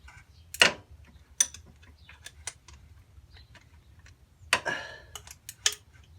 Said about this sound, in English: loosening off the 2 main mounting bolts.